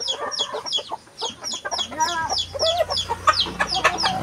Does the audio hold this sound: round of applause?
no